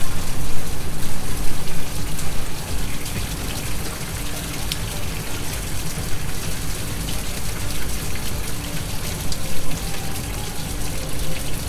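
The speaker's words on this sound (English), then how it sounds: "And then turn on the faucet." Water gushes steadily from a lab faucet in a continuous, loud rushing stream with slight fluctuations, nothing else standing out.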